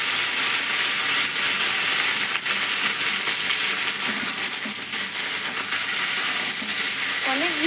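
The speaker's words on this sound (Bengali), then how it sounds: "সবজিগুলো দিয়ে এবার একটু নেড়ে চেড়ে নেবো।" Chopped vegetables stirred in a frying pan, a loud continuous sizzle with scraping stirs and occasional clinks running throughout, close and steady with no talk.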